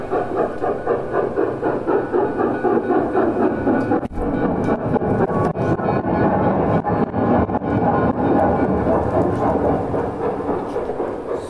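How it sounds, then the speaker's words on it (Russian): Heavy rumbling of a passing train in a stage performance, a dense rolling roar with rhythmic clatter, loud and steady for the whole stretch. "Если не дышать, то поезд будет слышно"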